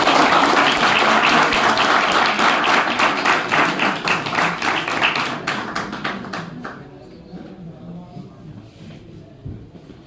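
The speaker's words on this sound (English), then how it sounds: "Let's give him a big round of applause." Loud audience applause at a science lecture on the sun, dense clapping that starts strong and gradually thins out and fades over several seconds.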